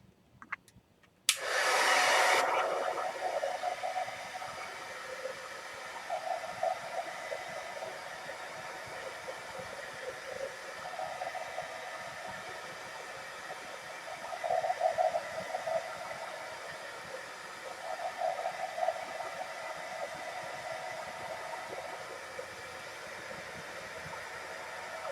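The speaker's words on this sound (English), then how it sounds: "I am going to heat gun this because it's going to stick if I don't." A heat gun dries metallic paint with a steady, loud blowing whoosh that starts abruptly and runs for over twenty seconds. Faint background sounds come and go beneath it.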